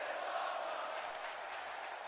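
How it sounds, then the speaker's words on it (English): A large wrestling crowd in an Orlando arena roars and cheers in approval, a steady distant wash of massed voices with no single voice standing out. "And the crowd, this Orlando crowd, voicing their approval."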